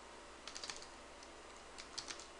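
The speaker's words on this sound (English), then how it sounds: "I'll type it all out" Typing on a computer keyboard while entering code in a game development tool, two short faint bursts of quick clicking keystrokes separated by a quiet pause, with no talking.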